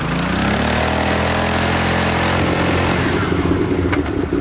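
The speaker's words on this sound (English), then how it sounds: "To save weight, the Works Fireblade does without a starter motor, so to get it going requires a slave engine and a highly trained engineer." Honda Works Fireblade racing motorcycle being started with an external slave engine: a loud, continuous mechanical engine drone that roughens and rises slightly toward the end, close and unbroken.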